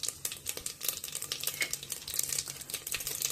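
Mustard seeds, cumin and fennel spluttering in hot oil in a pot: quiet, rapid, irregular crackling pops and a soft sizzle that run steadily throughout, close up, with no talking.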